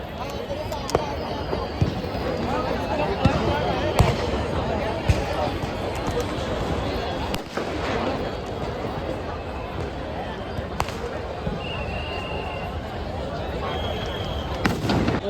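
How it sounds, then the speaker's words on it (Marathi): Diwali Padwa fireworks at Shivaji Park, Mumbai pop and crack intermittently at a distance over a constant murmur of crowd chatter. "आतिषबाजी होते फटाक्यांची ती अनुभवूया"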